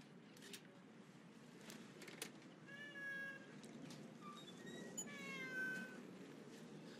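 A cat meows several times, with drawn-out, wavering cries clustered in the middle and toward the end, heard fairly clearly over a steady low background hum with no speech.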